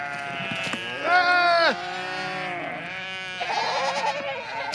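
Sheep and goats bleat in a field as livestock are let out to graze, with several overlapping calls, one loud drawn-out bleat near the front and softer ones behind.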